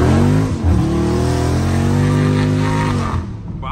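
A Scat Pack car engine revs loudly and close by, its pitch climbing and holding in a sustained roar before easing off at the end.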